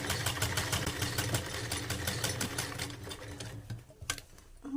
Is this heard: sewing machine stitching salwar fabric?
yes